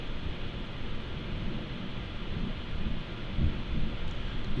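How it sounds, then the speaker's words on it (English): Thunder from a lightning storm rolls as a low, distant rumble over a steady bed of noise, swelling a couple of times toward the end, with no voices. "We just had lightning and thunder here. You may have heard it."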